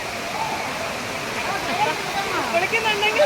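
Steady broadband rush of Courtallam Main Falls waterfall in Tamil Nadu, continuous and fairly loud throughout, with voices faintly mixed in beneath the falling water.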